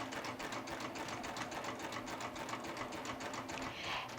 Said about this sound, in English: So let's step on the gas and stitch along and see how the stitching looks.